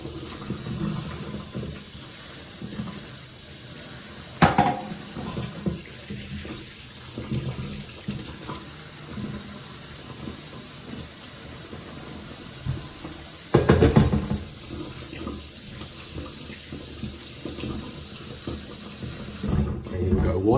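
Warm tap water runs steadily into a kitchen sink as a new cast iron skillet is readied for cleaning, a constant close splashing hiss with a couple of louder clatters and a cutoff at the end.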